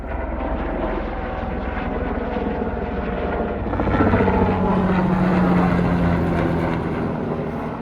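A tour helicopter drones steadily in the distance over the Grand Canyon South Rim, its rotor hum swelling a little louder midway before easing back, with no talking.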